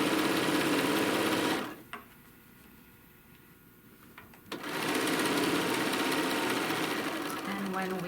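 A sewing machine stitches a tote bag panel in a steady, fast mechanical whir, cutting out briefly for a pause before resuming at full speed.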